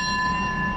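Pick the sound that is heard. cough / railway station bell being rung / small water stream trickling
railway station bell being rung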